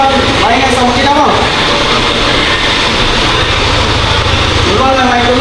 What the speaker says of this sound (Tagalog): Maingay sa makina mo.